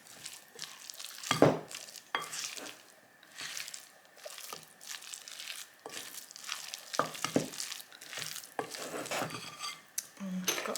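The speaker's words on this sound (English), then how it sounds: "Stir this all up. That's going to break up some of those larger chunks of feta as well." A nettle and feta filling is stirred in a pan, with soft, wet, irregular scraping and squishing strokes and a faint sizzle underneath. The sounds are close and fairly quiet, with occasional louder knocks of the utensil.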